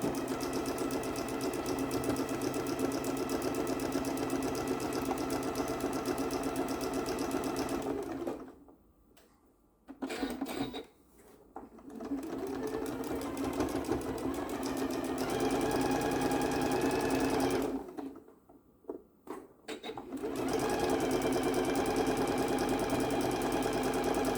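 A sewing machine runs in long steady bursts while stitching quilt fabric, its fast even hum pausing twice for a few seconds before resuming, close and with no voices.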